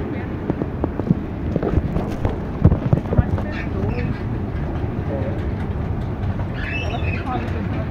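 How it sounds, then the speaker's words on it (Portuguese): Interior of a moving train with a dense, rumbling rattle, scattered clacks and knocks, and faint chirps toward the end. "O melhor movimento é dentro do trem"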